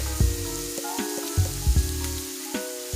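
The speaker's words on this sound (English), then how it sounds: "because I like to saute the seasoning" Italian seasoning sautéing in a pan over low heat gives a soft, steady sizzle, broken by a few dull thumps and clatters of a utensil against the pan over a faint background hum.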